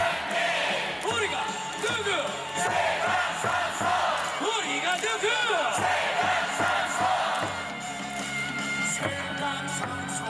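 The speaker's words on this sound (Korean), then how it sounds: "삼성 팬분들은 정말 머리 위로 박수를 엄청 치세요." A large baseball stadium crowd at a KBO game chants and cheers loudly in unison, a continuous roar of voices with rhythmic overhead clapping mixed through the whole stretch.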